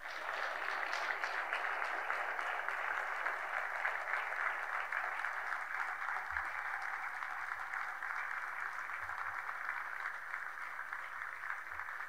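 Sustained, dense applause from a large audience fills a graduation mass, steady and even throughout with no voices over it.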